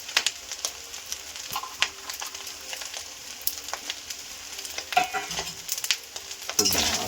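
Fried rice with cashews and masala stirred in a pan, a faint steady sizzle broken by irregular scraping clicks of a spoon, louder stirring near the end, no voices.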